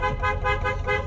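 A Rolls-Royce horn sounds in a steady, loud, sustained honk with slight pulsing, close and continuous throughout.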